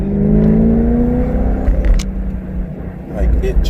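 A BMW E92 M3 with an ACM muffler mod revs up loudly and close, its exhaust note climbing in a deep, raspy rise, then settling into a rumbling idle.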